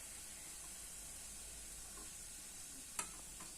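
Layered semolina chirote pastries frying in hot oil give a steady soft sizzle and hiss, faint and even, with one sharp clink near the end as a utensil touches the pan.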